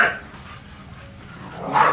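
Bully puppies bark at close range: one sharp bark at the start, a quiet gap, then another bark at the end.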